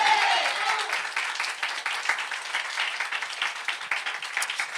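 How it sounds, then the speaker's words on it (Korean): A church congregation at a Sunday worship service claps together, a bright, even patter of many hands that starts loudest and stays steady throughout. "우리 하나님께 박수로 영광 돌리겠습니다"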